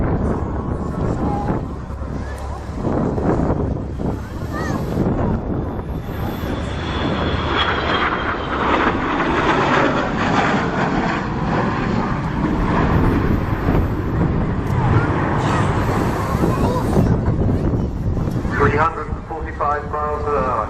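Avro Vulcan XH558 bomber passing overhead at the RAF Cosford airshow, a loud, continuous roaring jet-engine rumble with wind buffeting throughout and a commentator talking over it.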